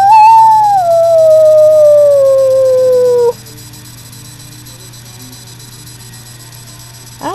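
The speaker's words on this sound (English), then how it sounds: "We heard a coyote." A coyote howls one long, loud, sustained wail that slides gradually downward in pitch and then stops abruptly, leaving a quiet steady hum.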